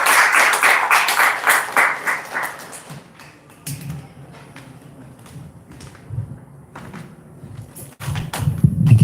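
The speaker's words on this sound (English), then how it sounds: "Maybe we can give another massive round of applause to Keshav Swami." A large audience claps at a mantra and spiritual music event, heavy applause fading over the first few seconds into scattered individual claps and thuds, then a few louder claps near the end.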